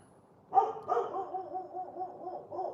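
A dog barking: a single close bark followed by a drawn-out, wavering howl-like woof that trails off over a couple of seconds.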